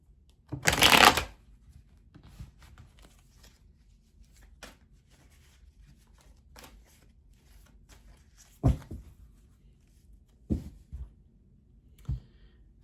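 Tarot cards shuffled in a loud riffling burst near the start, followed by scattered soft card clicks and taps in an otherwise quiet room.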